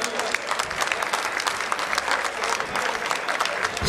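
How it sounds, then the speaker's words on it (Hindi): A crowd at an outdoor anniversary celebration in Indore gives hearty applause for the Shiv Shakti dance group, a steady burst of many hands clapping, loud and close. "एक जोरदार ताली"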